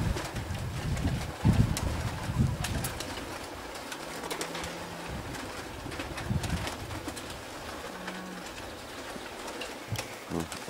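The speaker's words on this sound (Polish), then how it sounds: "Także tutaj tych gołębi jest naprawdę bardzo dużo" A large flock of racing pigeons coos inside a loft, overlapping calls close by, with a few wing flaps and rustling bumps and a couple of short low hums in the background.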